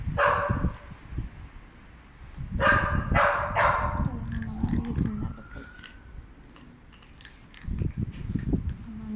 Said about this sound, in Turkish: Sen öyle havlayıp dur.